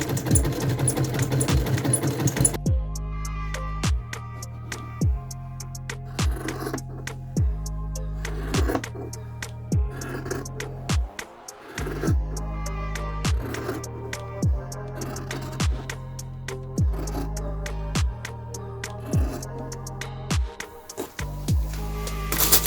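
Sewing machine stitching the inside seams of a modern Victorian-style skirt, running in repeated bursts of steady, fast mechanical rattling with brief stops between runs, loud and close.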